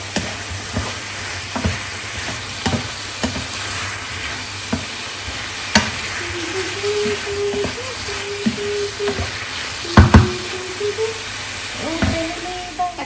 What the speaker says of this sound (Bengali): এটা একটু ভাজি প্রথমে চিকেনের সাথে তারপরে যে আমি সব মশলা দিব একটু এখন দিব কাঁচামরিচ আর পেঁয়াজ এটা সবজির সাথে ভাজি হয়ে যাবে